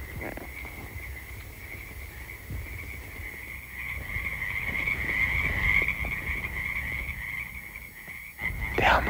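Frogs croak continuously at a pond at night, a dense steady chorus close by that carries through the whole stretch, with a brief louder disturbance near the end.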